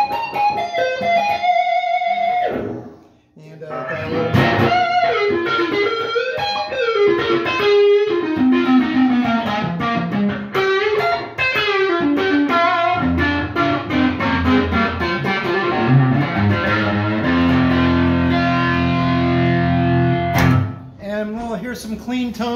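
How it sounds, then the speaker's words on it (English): Electric guitar played with a distorted, smooth "woman tone" setting, sustained notes and melodic runs ringing out loud and close, with a brief pause near the start and a fade at the end. "Put a little more woman tone on this, dial back on the tone a little"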